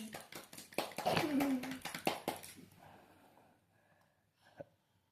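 A few quick hand claps from a small child at home, bunched together near the start and close by, mixed with an excited voice before things fade to quiet.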